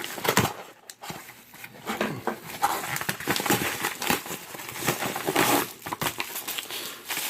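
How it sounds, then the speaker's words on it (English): Crinkly crackling and snipping as green scissors cut open a package, a run of close, irregular rustles and sharp snips with no talking. "Let's use our green scissors of might."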